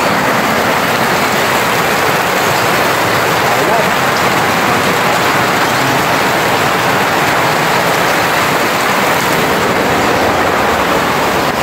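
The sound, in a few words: heavy rain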